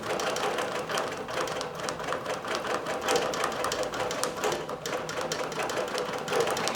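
A digital quilting machine stitches a quilt with a fast, steady mechanical chatter that stays loud and even throughout.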